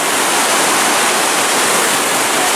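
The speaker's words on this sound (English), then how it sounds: "waterfall." Waterfall seen from a bridge on a trek from the Amazon to the Andes, a steady loud roar of rushing water with no break for the whole stretch.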